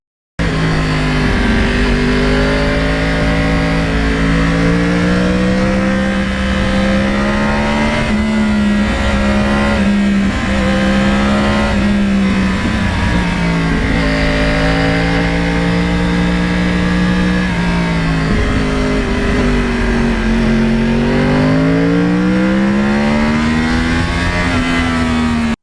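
A Yamaha R1 crossplane sport motorcycle engine revs hard and accelerates up through the range, its loud, close rasping note rising and falling in pitch repeatedly, with no talk.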